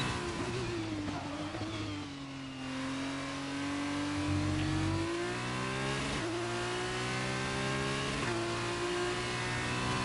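An F2 race car in a video game races through a qualifying lap in Austria, heard onboard: a loud, high, sustained engine whine that climbs and drops with several quick gear shifts.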